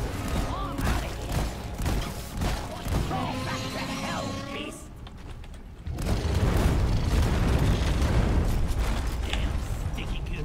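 A grenade explodes in the Deep Rock Galactic co-op shooter: clattering game noise and tonal effects give way, after a short lull, to a loud, sustained roaring burst that fills the rest of the clip.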